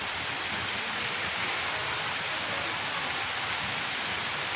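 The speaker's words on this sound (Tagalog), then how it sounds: "Malakas na yung ulan." Heavy rain falls hard and without pause during weeding outdoors, a dense, loud, even hiss filling the space close around with no voices.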